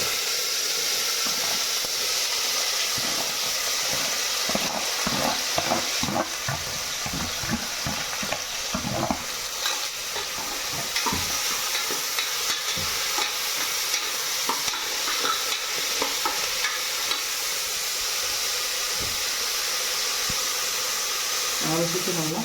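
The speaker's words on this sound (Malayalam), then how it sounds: "ഇനി നമ്മൾ അരിഞ്ഞു വെച്ചിരിക്കുന്ന സവാള, പച്ചമുളക്, തക്കാളി, 2 കറിവേപ്പില ഇതൊന്ന് വഴറ്റിയെടുക്കണം." Chopped onion, green chili, tomato and curry leaves sautéing in a pan for egg curry, a continuous soft sizzle with repeated scraping stirs throughout, close and steady.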